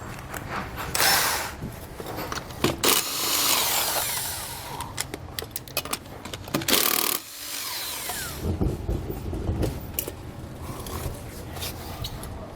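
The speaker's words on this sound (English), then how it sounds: "we can go ahead and begin to remove the tires using a 19mm socket" Trailer wheel lug nuts are removed with a 19mm socket on a power tool, loud close bursts of whirring and rattling impact noise with brief pauses and clanks between them, no speech.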